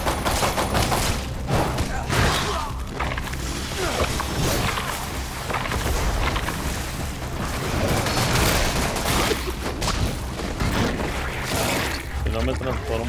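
Shotgun blasts in Resident Evil Re:Verse come as repeated loud bursts scattered through a busy game mix, with someone talking over much of the action.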